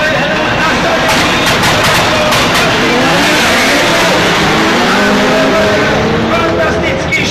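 Race cars at an AUTOslide 4x4 final in Žarnovica roar off the start together, a loud, dense wall of revving engines that stays steady and close throughout.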